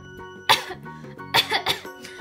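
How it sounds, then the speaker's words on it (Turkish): A cartoon girl who has caught a cold coughs in several harsh bursts, an early single cough followed by a quick cluster of two or three, with light background music underneath. "Hem öksürüyorum hem hapşırıyorum."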